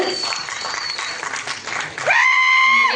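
Audience applause at a Tamil film audio and trailer launch event, a short burst of clapping over the first two seconds that gives way to a loud sustained musical tone.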